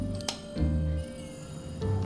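A cat meows a couple of times in Final Fantasy 7 Remake, short mid-pitched calls over game background sound with low hum, fairly close and clear.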